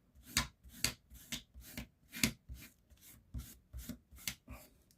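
A blade scraping old material off the bellows of a Snow White cuckoo clock during restoration, about ten close, rasping strokes in a steady back-and-forth rhythm, fairly quiet with no speech.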